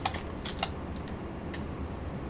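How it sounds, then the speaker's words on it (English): Loud computer keyboard typing picked up by a gamer's microphone during Counter-Strike: sharp irregular clusters of clacking keystrokes, close and dry, with gaps between bursts over a low background hum. "Only when the keyboard's getting punished."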